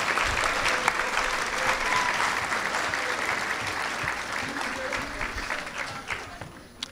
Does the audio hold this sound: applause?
yes